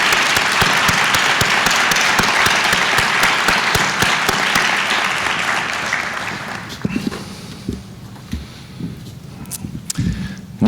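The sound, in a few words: applause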